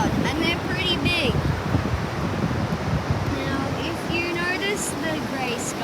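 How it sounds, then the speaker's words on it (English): Big, loud ocean waves roll onto a sandy beach under a grey cyclone-driven sky, a constant close roar of surf with wind buffeting the microphone and a voice talking over it. "the waves are pretty loud and they're pretty big"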